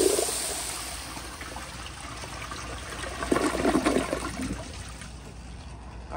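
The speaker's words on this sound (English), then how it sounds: "here's another flush." A 1978 Kohler Wellworth Waterguard toilet flushing on a flushometer, water rushing and swirling at moderate level, swelling midway and then tapering into a trickle.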